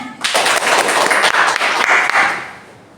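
A classroom group claps together for about two seconds, a dense burst of many hands that fades out at the end.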